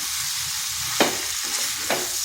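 Jackfruit and spices sautéing in a pan for a vegetarian kalia, a steady sizzle with two sharp stirring scrapes, close and moderately loud.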